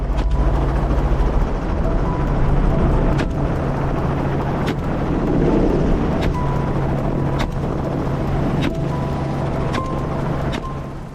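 A hog-hunting helicopter drones steadily overhead, its loud, continuous engine and rotor rumble filling the whole stretch with no break.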